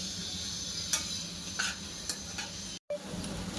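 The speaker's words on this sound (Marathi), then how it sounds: "आता हे सर्व मिश्रण आपल्याला थोडं गूळ विरघळेपर्यंत परतून घ्यायचे" Stirring grated jaggery in a pan over heat as it melts, a steady scraping and sizzling with a few sharper clinks of the spoon against the pan, alone and close, cut briefly by a silent gap.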